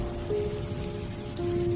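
Rain falls at night in a soft, even patter, accompanied by a faint steady tonal hum in the background.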